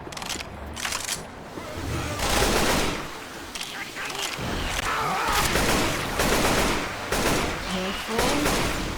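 Rapid gunfire bursts in the zombie shooter game Left 4 Dead, loud stuttering volleys that come and go, with a player talking over the shooting.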